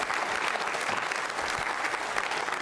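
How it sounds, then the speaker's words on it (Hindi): Steady applause from an audience at a Jain Social Group regional quiz show, a dense even clapping texture held at a constant level throughout with no pauses. "उनके लिए भी तालियां जोरों से बजाइए आप।"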